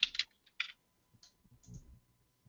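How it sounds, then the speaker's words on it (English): A few scattered taps on a computer keyboard come through a quiet remote call, with short bursts of keystrokes followed by faint pauses and no speech. "Yeah, somebody's typing."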